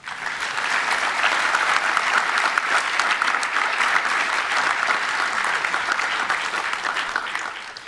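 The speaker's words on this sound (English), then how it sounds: "So let's give yourselves another round of applause." Masters graduates applaud themselves at a graduation ceremony, a broad, even wash of many hands clapping that holds steady for several seconds.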